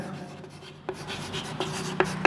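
Chalk or a marker scratches across a board during a maths lesson, producing short, close strokes in quick bursts with sharp taps between them.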